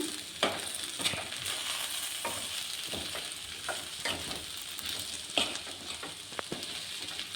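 Spices and pumpkin are stirred in a hot pan of village-style curry, with a soft steady sizzle underneath. Sharp scrapes and knocks from the spoon come every second or so, close by and moderately loud.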